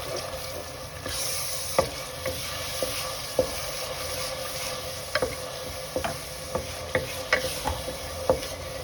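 Tomato puree being stirred into chicken biryani masala in a pan: a low continuous cooking hiss broken by a series of light clacks and scrapes from the spoon, sparse at first and then more frequent, close and unaccompanied.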